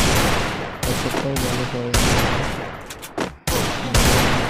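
Heavy gunfire in the mobile shooter game Free Fire comes as long loud bursts broken by short pauses, close and dominant, while someone speaks briefly over it.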